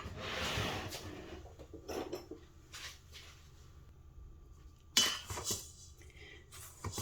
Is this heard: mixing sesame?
yes